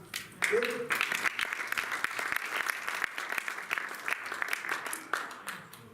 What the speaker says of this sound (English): The applaud on this should be stronger